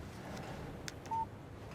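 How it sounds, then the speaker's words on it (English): A short electronic beep sounds once as a text message notification on a phone in Alan Wake, faint over quiet background hiss. "Text message from Barry."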